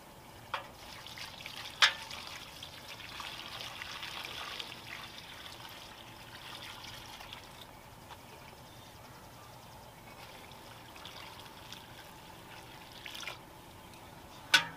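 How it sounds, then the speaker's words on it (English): Water trickling and pouring from a bucket into garden containers outdoors, a quiet steady stream with a few small splashes and knocks, faint and without talk. "I'm going to give them 2 buckets of water apiece"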